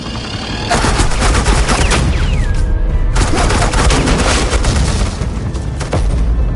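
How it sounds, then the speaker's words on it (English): Sustained suppressing gunfire in Batman: The Enemy Within, a loud, dense fusillade of rapid shots and bursts that runs almost continuously after a short quieter opening, with a brief dip around the middle. "I said suppressing fire!"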